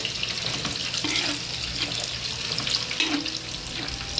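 Pechay and tofu sizzle and hiss in a pan while being stirred, giving a steady close crackling with scraping stirs.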